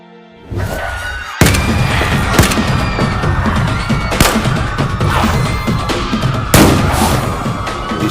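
Several loud gunshots crack out at irregular intervals over a dense, rumbling wash of noise, sharp and close, in a zombie audio drama.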